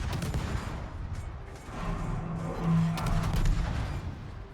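A warship's armor-piercing shell salvo booms in the naval game World of Warships, heavy overlapping low blasts and rumbling over a dense, busy battle din.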